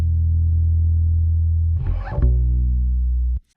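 A sustained, buzzy low tone with a gritty distortion effect from Logic Pro X holds steady, breaks briefly into a rougher burst, then resumes and cuts off abruptly.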